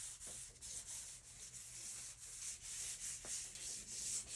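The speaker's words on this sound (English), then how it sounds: "so I'm just going to sand it very lightly" Light hand sanding of a cured polyurethane finish on a handmade wooden console table, a soft, steady rubbing scrape in repeated strokes, close and fairly quiet with no voices.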